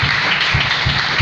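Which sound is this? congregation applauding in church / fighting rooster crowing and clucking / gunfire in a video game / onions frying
congregation applauding in church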